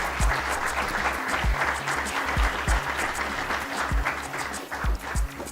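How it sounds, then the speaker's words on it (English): Audience applause for panelists at an IT conference session forms a dense, steady patter throughout, with low thumps of footsteps or movement underneath as people come up to join. "Let's have please a round of applause for the panelists."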